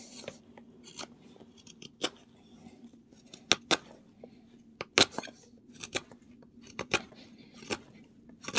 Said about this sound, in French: Pour venir décocher des copeaux.